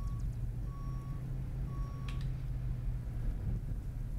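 A farm vehicle in the Farmer's Dynasty video game backs up, its reversing alarm sounding a few evenly spaced beeps over a low, steady engine rumble.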